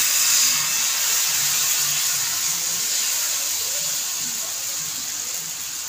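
Rice dosa (ghavne) batter sizzles on a hot pan in a steady, close hiss that holds evenly and fades slightly toward the end, with no talking.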